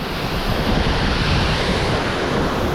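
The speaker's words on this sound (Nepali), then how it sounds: "हावा त डेन्जर चल्दैछ" Strong wind gusting near a hidden waterfall outside Pokhara, a dense, steady roar of rushing air and water, loud and close, continuous with no voices.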